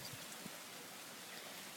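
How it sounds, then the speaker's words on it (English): Steady rain falls during a thunderstorm, a soft even hiss of drops on surfaces with no thunder audible, faint and continuous throughout. "The sun's been covered, and it's been raining for like hours."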